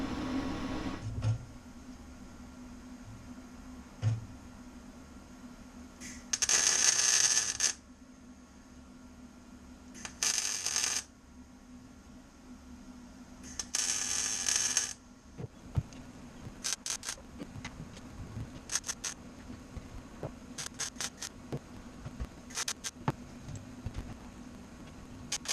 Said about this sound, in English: I'm going to try to weld this tonight.